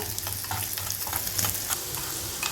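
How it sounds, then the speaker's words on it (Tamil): Steady sizzling of ginger frying in hot oil, with occasional stirring scrapes, close up and fairly quiet with no talking. "இஞ்சி நல்லா பொரியுது."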